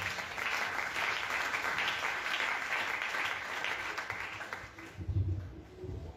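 A church congregation applauds during a night prayer service, a dense, sustained wash of many hands clapping at a distance that fades after about five seconds into low murmuring.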